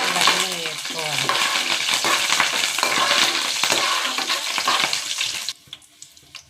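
Garlic, curry leaves, dried red chillies and tempering seeds sizzle and crackle in hot oil in a pan, a loud steady hiss that cuts off abruptly near the end.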